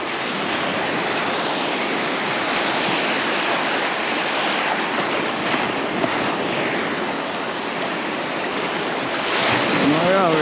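Sea waves break over a sandbar along the shore, a continuous loud roar of surf mixed with strong wind buffeting the microphone, with a voice briefly audible near the end.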